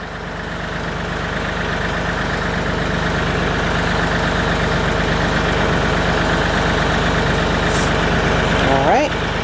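A tractor engine idles close by with a steady rumbling drone while an implement is attached. A brief clank comes near the end, and a voice speaks over it.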